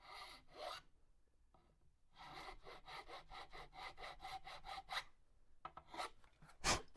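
A superstrat guitar nut is lightly rubbed down, giving a close, even run of quick rasping strokes with brief pauses between bursts.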